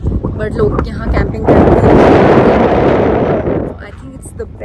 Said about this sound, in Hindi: वैसे बहुत हवा चल रही है